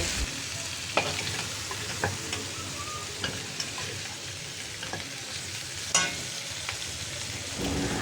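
Pork leg sautés with annatto for Ilonggo pork kansi, a soft, continuous sizzle. A spoon stirs and scrapes it with occasional sharp knocks against the pan.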